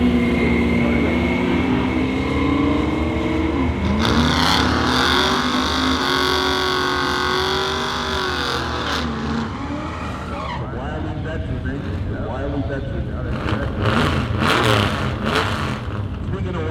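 A new generation Mustang drag car at a heads-up drag race at Toronto Motorsports Park revs and launches with loud rising engine roar and tire squeal, while an announcer talks over the noise.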